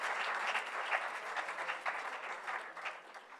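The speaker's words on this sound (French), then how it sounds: "j'aimerais qu'on applaudisse tous ceux qui ont vaillamment lavé des voitures" A live audience claps in steady, dense applause for volunteers who washed cars to raise money, a continuous crowd roar of hands that holds for the whole stretch and tapers slightly at the end, with no voices over it.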